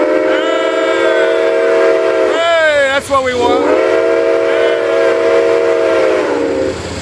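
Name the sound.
steam locomotive whistle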